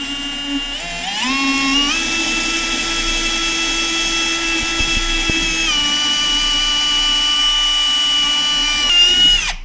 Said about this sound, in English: I'm gonna take my drill bit and my drill and drill this out